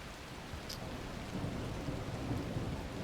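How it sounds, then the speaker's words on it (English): Steady rain and a low rumble of thunder fill a stormy scene in the video game The Last Caretaker, a dense continuous wash of downpour with no voices. "And it's raining."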